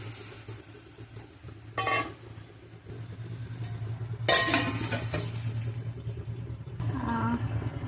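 Garlic and taro stolons are stirred in a pan for an oil-free dish, with a few scraping utensil strokes rising over a steady low hum; a faint voice may sit underneath.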